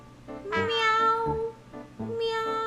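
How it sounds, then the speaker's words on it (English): A cat meows three times up close, each call a clear, drawn-out tone with short gaps between, with no talking. "What is the sounds of a cat?"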